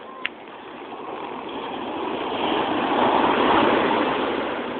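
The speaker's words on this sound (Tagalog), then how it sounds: "Ang laki ng alon. High tide naman." Big waves at high tide on a black sand beach: a broad, hissing surf roar that swells and builds to a louder crash in the middle, heard from nearby and without any talk.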